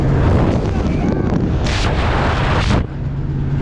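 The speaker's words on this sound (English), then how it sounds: "Nothing but wind noise." Loud, constant wind buffeting a microphone in a moving off-road work truck, roaring and rumbling throughout, with a couple of brief gusty swells before it settles.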